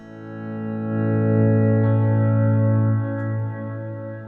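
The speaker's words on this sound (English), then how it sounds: "I just try to create like this large reverb pad sound, and I use the shimmer as well" A single guitar chord played through a Strymon BlueSky reverb pedal with shimmer, swelling into a dense sustained reverb pad with bright octave overtones that holds steady, then eases slightly near the end.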